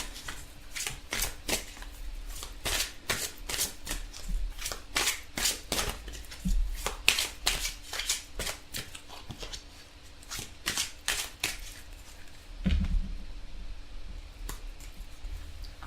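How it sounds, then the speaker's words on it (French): Tarot cards shuffled by hand in a steady run of crisp riffling bursts, close and clear with no talking, ending in a softer card draw. "Alors on va tirer une carte pour voir l'énergie du jour, donc le message du jour."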